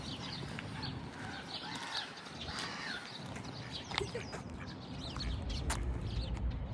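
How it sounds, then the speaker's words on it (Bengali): Ducks and other birds in a park in Riga, Latvia, give faint, scattered calls and caws against soft outdoor background noise. "এখানে খুব সুন্দর সুন্দর কিছু হাঁস আছে, ওই ওখানে কিছু পাখিও আছে।"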